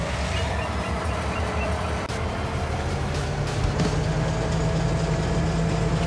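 A train is driven in Farming Simulator 25, giving a continuous rumbling engine and rolling noise with a few faint clicks, steady and unbroken, with no talk.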